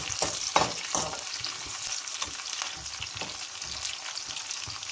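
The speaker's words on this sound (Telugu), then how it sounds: "వట్టిమిరపకాయలు వేసుకొని కొంచెం కలుపుకుందాము." Dried red chillies with curry leaves fry in hot oil while a spoon stirs them through the pan, giving a steady crackling sizzle broken by scraping strokes, close and fairly loud, with no voices.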